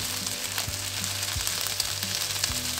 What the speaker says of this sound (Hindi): ये जो भिंडियां हैं अब इसमें पहले हम इनको फ्राई करेंगे